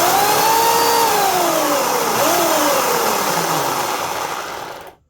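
A Remington electric pole saw motor running at full speed, a loud, steady high whine with pitch wobbling slightly as it spins, close to the listener, then cutting off abruptly at the end.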